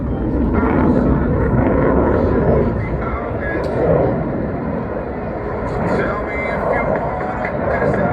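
A Eurofighter Typhoon jet flies a tight 360-degree turn at the Royal International Air Tattoo, its engines producing a loud, continuous roar that swells and fades as it passes, heard at an outdoor air show with a commentator talking over it.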